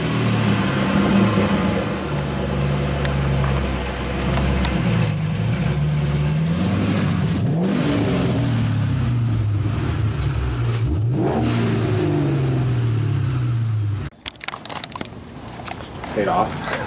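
A 2006 Ford Mustang GT engine revs up and down repeatedly, loud and close, its pitch rising and falling in several pulls before cutting off into quieter handling noises.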